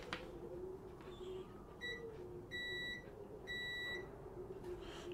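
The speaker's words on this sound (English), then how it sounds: "Flicking our multimeter on. And what we're looking for is we're looking for beeps from these outside pins." Several short electronic continuity beeps from a multimeter sound in sequence, a couple brief and two longer held tones, clean and close over a quiet hum, while testing pins on 12v wiring.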